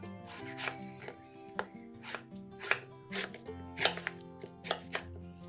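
A knife chops eggplant into pieces about 1.5 cm thick on a cutting board, giving a run of close, crisp, evenly spaced cuts with no talk over them.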